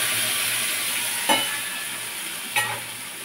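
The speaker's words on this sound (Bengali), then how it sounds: "এই সময় আমি সেদ্ধ করে রাখা ডালটাকে দিয়ে দেব।" Boiled chana dal goes into hot oil with whole-spice tempering and sizzles steadily and loudly throughout, with two brief clatters of stirring from a spoon or spatula about a second apart.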